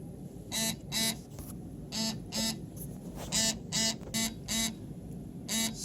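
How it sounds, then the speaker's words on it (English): FITVII GPS smartwatch, IP68 waterproof, ringing an alarm while submerged in water: repeated pairs of short bright beeps with a buzzing vibration, regular pulses over a faint background, no talk. "I've set an alarm on this time, and you can see the display came on and it keeps on ringing"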